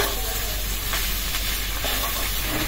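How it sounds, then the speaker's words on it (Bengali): Vegetables fry in a pan with a steady, loud, continuous sizzle and hiss, close up and unbroken throughout, with no voices. "এটা বেশি ভাজা ভাজা করবো"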